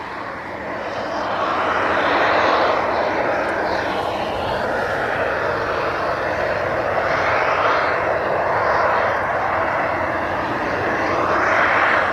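Airliner bound for Bahrain pushing back at East Midlands Airport, its engines giving a steady, loud, broad roar that holds for the whole stretch with a slight swell, no talk over it.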